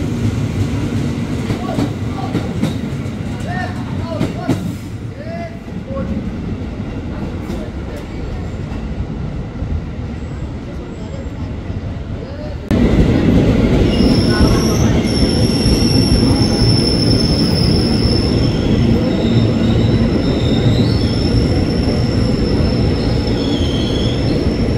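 A commuter train rolls into Jatinegara station, a loud steady rumble of wheels and carriages that swells midway, joined by high, sustained wheel squeal as it brakes along the platform.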